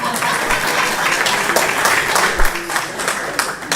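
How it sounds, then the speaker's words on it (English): An audience at a university anniversary conference breaks into loud, sustained applause, a dense patter of many hands clapping for several seconds. "Please clap for me for that."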